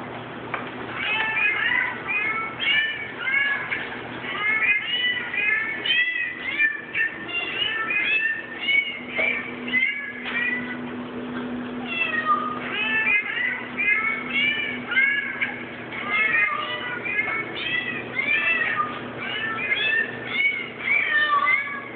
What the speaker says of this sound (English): I got this new birthday card, and it's a bunch of cats screaming